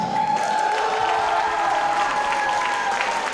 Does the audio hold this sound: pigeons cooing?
no